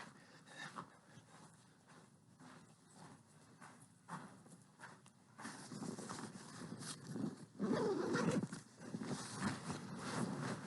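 Hooves clop steadily as horses walk nearby, with occasional snorts and vocal calls rising over scuffling and movement; no talking.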